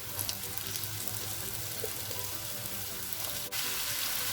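Potatoes cut into small pieces hit a hot pan for a simple Indian dry curry, giving a steady, hissing sizzle of frying that stays even throughout, with a brief scrape partway through.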